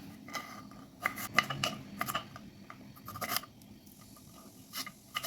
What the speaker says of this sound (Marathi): आणि आता आपण हे चिरून घेणार आहे